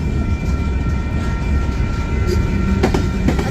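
A train rolls past close by in St Paul, Minnesota, a steady heavy rumble of railcars with faint rhythmic clicks of wheels over rail joints, alone without voices.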